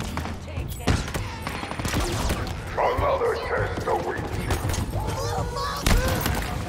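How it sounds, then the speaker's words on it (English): Gunfire and explosions from the Halo Infinite video game crackle in bursts across the whole stretch, with a sharp blast near the start and another near the end, under a game character's spoken line. "Yo, that explosion,"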